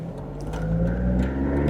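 A Honda Beat kei car drives along, its engine a steady close hum that builds slightly in loudness over a short stretch, with no one talking.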